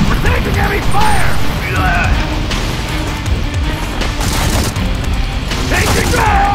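Heavy gunfire and explosions from the mobile shooter game Modern Combat 4: Zero Hour, a dense, continuous battle din of bursts and booms with game voices calling out over the top throughout.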